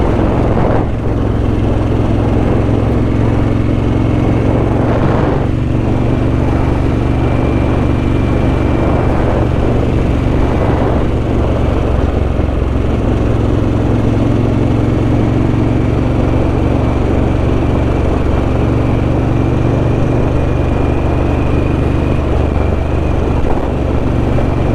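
Harley-Davidson Sportster S motorcycle cruising along a scenic road, its engine a steady loud drone throughout with continuous wind rush and no pauses.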